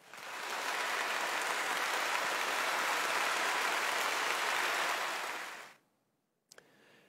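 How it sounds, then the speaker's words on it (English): Graduation ceremony audience gives a broad, even round of applause, steady and fairly loud for several seconds before stopping abruptly, followed by a brief silence and a couple of faint clicks. "So let's give our family and friends a big round of applause."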